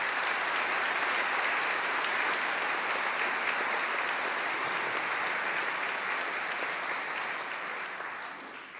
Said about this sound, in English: let's give these sponsors a round of applause